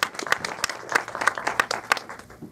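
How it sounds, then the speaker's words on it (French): Audience applause at a film festival Q&A in 2013, a fairly faint, scattered patter of many hands clapping with sharper individual claps standing out, steady for a couple of seconds. "il mérite un bel applaudissement"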